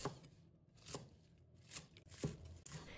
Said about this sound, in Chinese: 再准备几根小葱，切成小段